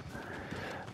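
In a multiplayer shooter video game, a horse's hooves clip-clop with a short whinny in one brief, faint burst.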